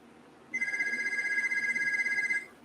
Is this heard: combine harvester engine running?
no